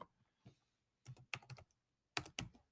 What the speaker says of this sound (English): So right now I can type in 500 over 3